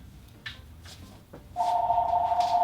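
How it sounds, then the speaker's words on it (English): A telephone rings in a home, a steady electronic ringing tone starting partway through and continuing loud to the end after a few faint knocks. "That phone is in my room."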